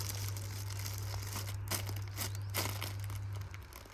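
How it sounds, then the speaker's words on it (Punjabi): Close plastic packaging envelopes crinkle and rustle in bursts as tie-dye suits are packed inside, over a constant low electrical hum. "ਪੈਕਿੰਗ ਲਈ ਪਹਿਲਾਂ ਆਪਾਂ ਇਸ ਲਿਫਾਫੇ 'ਚ ਪਾਵਾਂਗੇ"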